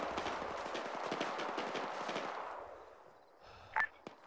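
Distant gunfire crackles in a military shooter game, a dense run of sharp shots for about two and a half seconds that fades to quiet, followed by a few isolated reports near the end.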